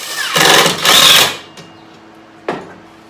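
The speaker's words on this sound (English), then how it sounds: "I'm just going to put another screw in here." A power driver runs a screw into a wooden fence piece on a worktable sawmill in two quick whirring bursts, followed by a couple of faint knocks, close and fairly loud with no speech.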